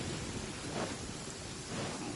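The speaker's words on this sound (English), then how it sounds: "Damn, it's raining crazy here." Heavy rain in Genshin Impact, a dense steady hiss of downpour with a low rumble of thunder beneath, loud and continuous with no voices.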